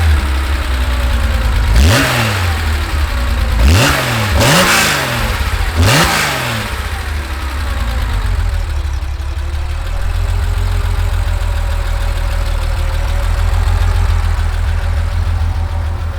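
A 1973 Porsche 911 RSR engine revs hard four times in quick succession, each blip rising and falling sharply, then settles into a steady, loud idle rumble close by.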